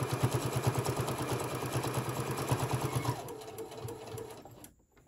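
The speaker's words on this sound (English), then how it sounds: "And I'm going to sew right down to the end." Sewing machine stitching cotton fabric for a bowl koozie, a steady rapid needle chatter running close and loud for about three seconds before slowing and trailing off into quiet.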